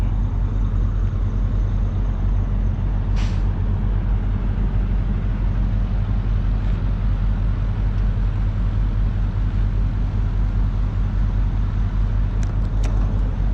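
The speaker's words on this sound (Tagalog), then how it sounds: "Dito tayo ngayon sa truck stop." Steady low rumble of idling and passing vehicles at a truck stop in the early morning, a constant engine drone with a couple of faint brief clicks, no talk.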